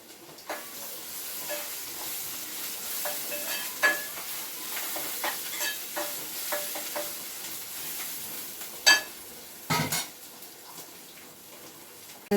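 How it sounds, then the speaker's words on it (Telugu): Onions frying in oil in a pan for an egg curry, a steady soft sizzle with scattered clicks and scrapes of stirring, one sharper clatter near the end, no voices. "ఉల్లిగడ్డ అయితే చక్కగా నూనెలో మంచి గోలుతుంది"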